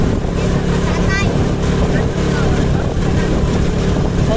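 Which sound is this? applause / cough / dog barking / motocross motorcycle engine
motocross motorcycle engine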